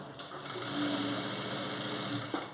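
Sewing machine stitching thread piping onto a blouse, its needle mechanism running in a quick, even mechanical whir that rises after a brief start and holds steady, close and alone.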